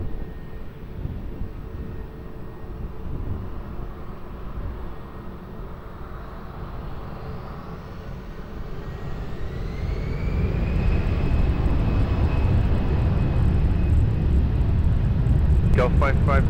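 A plane takes off at Lisbon Airport, its engine roar swelling from a steady rumble into a loud, sustained broadband blast that holds to the end, with a faint rising whine over it and a radio voice talking early on.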